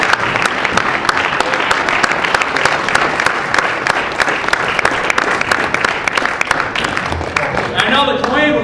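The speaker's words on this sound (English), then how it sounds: "let's give them a round of applause" An audience applauds veterans standing at an evening gathering, with dense, loud, continuous clapping for nearly nine seconds and a brief whistle-like tone at the end.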